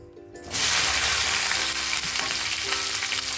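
Okra hits a hot black kadai with a sudden loud burst of sizzling that holds steady as a dense, even frying hiss, with no talking.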